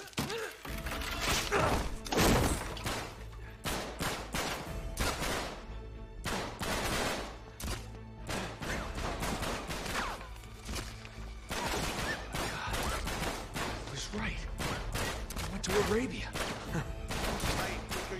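Gunfire from the Uncharted 3 video game: a dense run of sharp shots and bursts fills the whole stretch, loud and close, with thuds and crashes mixed in and a voice talking over the action.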